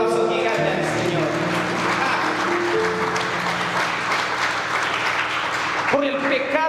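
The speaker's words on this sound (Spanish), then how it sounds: "Den un aplauso gigante al Señor" A church congregation breaks into loud, sustained applause that fills the room, with voices and music running underneath, and the clapping rises again near the end.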